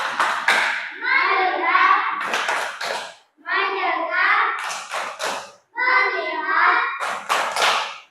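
Schoolchildren in a classroom play a rhythmic focus-clap game, chanting together between short, sharp bursts of hand clapping that come back at regular intervals, close and loud.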